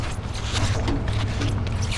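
A hose fitting turned by hand on a propane bobtail truck, a continuous gritty mechanical grinding and creaking, close up and steady over outdoor background noise.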